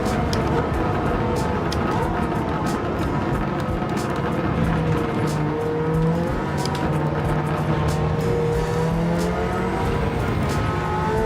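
Mazda RX-7 race car engine in Gran Turismo 7 on PS5, a dense continuous roar with rising and falling rev tones from several cars racing, with a voice talking over it.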